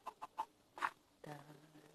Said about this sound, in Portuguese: Uma galinha, galera. Uma galinha.